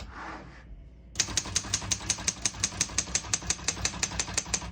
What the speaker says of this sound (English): We're gonna leave that on single for now and finish typing.